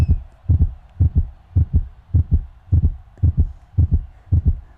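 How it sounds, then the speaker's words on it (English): A slow, steady heartbeat plays during a football video game, deep paired thumps repeating about eight times in a clear lub-dub rhythm, loud and alone without other sounds. "We hear the heartbeat."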